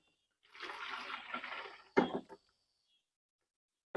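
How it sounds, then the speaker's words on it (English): Apple juice pours into a plastic wasp trap in a short, steady liquid stream, followed by a brief louder splash and clatter, close and otherwise quiet. "we're going to open up a little area here so we can pour in our apple juice"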